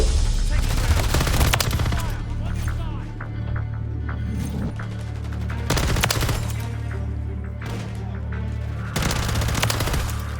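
Rapid automatic gunfire from a high-recoil gun in the video game Modern Warfare 3 crackles in dense, sustained bursts, loud and close, with a voice talking over it.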